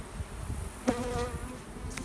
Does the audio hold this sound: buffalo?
no